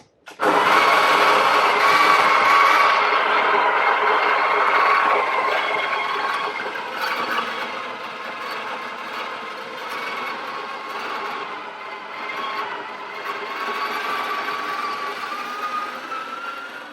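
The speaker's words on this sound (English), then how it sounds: "So I'm going to go ahead and get my beans grinded." Coffee grinder grinding espresso beans, a loud continuous whirring grind that starts abruptly and runs for over fifteen seconds, easing slightly in pitch and strength partway through as the beans break down.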